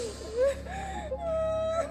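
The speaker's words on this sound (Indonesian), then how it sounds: "Suara tangisan itu berasal dari perempuan berkebaya merah." A woman sobs and whimpers softly, with wavering, drawn-out cries close by.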